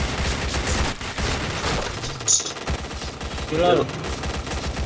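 Rapid automatic gunfire rattles through a first-person shooter match, with bursts of shots and game effects running the whole time, while a player's voice speaks briefly over the action.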